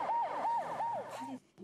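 An ambulance siren wails in a steady repeating up-and-down pattern, a clear mid-pitched electronic tone cycling several times before cutting off abruptly.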